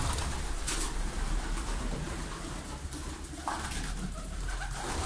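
Çift Tepe Limoni pigeons at a pigeon sale in a Malatya loft, cooing in repeated soft low calls from a flock, with a couple of brighter bursts over steady background noise and no talk.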